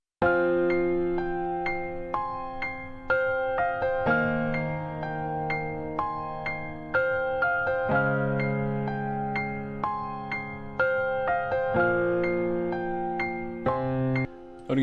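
Piano melody played throughout a hip-hop beat built in FL Studio for a hard-hitting track, with steady chords and notes in a rhythmic pattern, loud and upfront with no talking.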